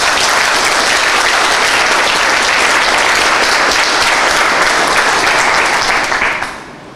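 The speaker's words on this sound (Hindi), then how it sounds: "आप लोग एक बार अपने ईमानदारी के लिए अपने ऊपर ताली बजाइए" Students in a civil engineering class clap together in loud, dense, sustained applause that holds steady before fading out at the end.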